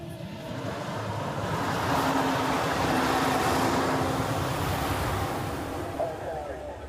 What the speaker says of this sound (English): every loud truck is trying to go by me while I'm telling a story.